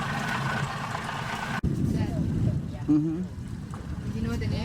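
Catamaran engine hum and wind wash past the microphone on a sea cruise off Krabi, Thailand, as people talk and call out over the churning water.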